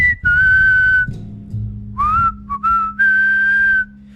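A person whistles a short tune to a dog, clear, loud, close-up notes in several phrases with brief gaps between them, alone without talk.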